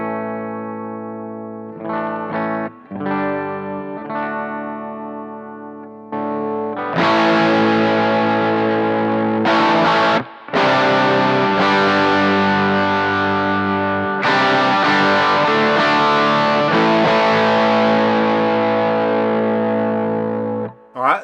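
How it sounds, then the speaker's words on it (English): Electric guitar through a Bluguitar Amp1 plays picked single notes and chords that swell into a full, sustained strummed passage with shimmering decay, loud and alone, with a brief gap midway. "So here's my clean tone on the Bluguitar Amp1."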